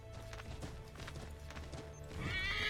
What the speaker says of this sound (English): I'm going to hop on a horse there, Georgie.